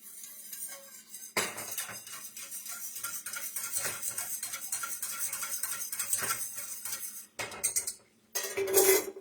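A metal whisk beats a thick cheese sauce for homemade mac and cheese in a pot, making rapid, rhythmic clinks and scrapes against the sides that run steadily for several seconds, then stop and resume briefly.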